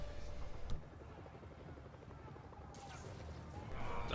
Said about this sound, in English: They're stealing a chopper.